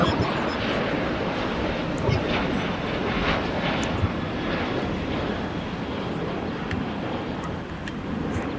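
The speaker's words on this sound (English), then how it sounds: "On an Airbus A320-233." Airbus A320-233 jet airliner at LAX, a loud, steady engine roar with wind noise on the microphone, continuous throughout.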